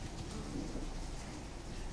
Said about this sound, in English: right now it's currently raining.